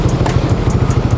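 A Yamaha XMAX 400cc scooter with an aftermarket Ganesha exhaust idles steadily up close, its exhaust giving a continuous low, pulsing burble.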